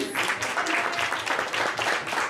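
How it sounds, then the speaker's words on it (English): Audience clapping at a live Cleveland event, a steady, fairly close burst of many hands clapping together that runs through the whole moment with no talking over it. "Clap it up for 11-3s."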